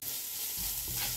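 Crushed garlic sizzles and fries in a pan for a Latin-style refrito, a steady hiss that swells louder partway through as stirring begins, with no talking.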